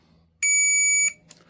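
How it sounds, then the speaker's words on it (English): Electric pruning shears compatible with Milwaukee 18V batteries give a single clear, high-pitched electronic beep lasting about half a second as they close, in a quiet room, followed by a faint click. "You'll hear a beep."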